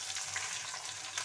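Onion and two chilies frying in hot oil with asafoetida, a dense, continuous close sizzle with fine crackling throughout and no talk.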